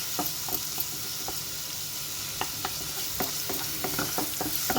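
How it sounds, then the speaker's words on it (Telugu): Turmeric and ginger-garlic paste frying in hot oil in a pan for a soya chunk masala curry, a steady close sizzle with periodic scraping taps of a spoon as it is stirred. "1 టీ స్పూన్ అల్లం వెల్లుల్లి పేస్ట్ వేసుకోవాలి. వేసుకొని చక్కగా ఫ్రై చేసుకోవాలి."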